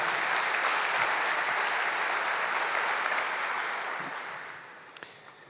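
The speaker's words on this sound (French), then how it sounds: "Applaudissements." An audience at a professional talk claps in a dense, steady ovation that holds for several seconds and then gradually tapers away, with a few scattered claps at the close.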